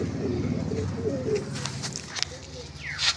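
Katubala napta pigeons cooing softly in low, repeated murmuring coos at close range, with a few brief higher chirps and a faint background voice.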